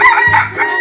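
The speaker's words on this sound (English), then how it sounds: "Chicken." A chicken in a 3D animal slide video game crows a short, loud, close cock-a-doodle-doo lasting under a second.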